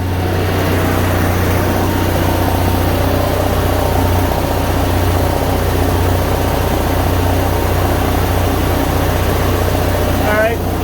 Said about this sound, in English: Listen to the motor too.